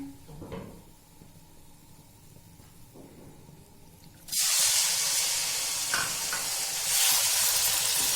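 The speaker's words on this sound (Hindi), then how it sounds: "अब उस ऑयल के अंदर हमने चिकन ऐड कर देना है।" Chicken dropped into about half a cup of hot oil in a kadai bursts into a loud, steady sizzle partway through, after a stretch of quiet kitchen clatter, and keeps hissing to the end.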